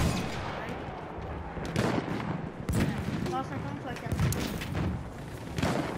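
Rapid video game gunfire in bursts of sharp shots, loud and close, mixed with a voice talking over the action.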